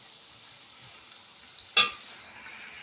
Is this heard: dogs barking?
no